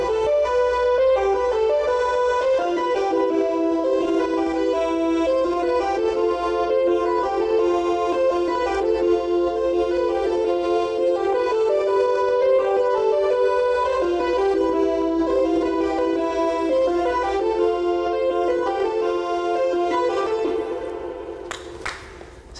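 Airy, angelic synth pad chords sustain steadily and loud for the whole stretch, layered with bright shimmering tones, with no talk over them.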